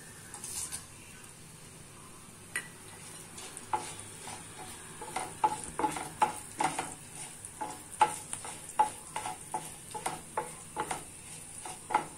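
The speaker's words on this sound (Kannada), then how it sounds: "ಇವಾಗ ಇದಕ್ಕೆ ಒಣಮೆಣಸಿನಕಾಯಿ ಹಾಕ್ತಾ ಇದೀನಿ" Dried red chillies fry in hot oil in a pan while being stirred, giving a steady close sizzle broken by repeated scraping and clinking strokes that grow more frequent toward the end; no one speaks.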